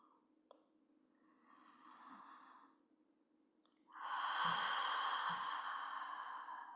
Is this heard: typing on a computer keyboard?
no